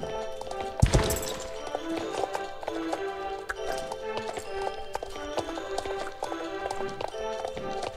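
Horses galloping in a Grand Prix race inside a game, with rapid steady clip-clop hoofbeats under layered music and effects, loud and continuous with a sharp burst near the start.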